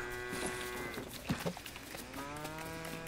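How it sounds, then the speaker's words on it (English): A video game cow in Lego Fortnite moos a few times at moderate volume over a steady background hum, the calls drawn out and tonal. "This is a cow. Cow goes moo."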